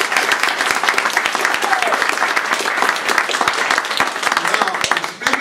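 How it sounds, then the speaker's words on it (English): Sustained applause from a crowd fills the whole stretch, dense and steady, fading slightly at the very end. "I'd like us to give them another round of applause."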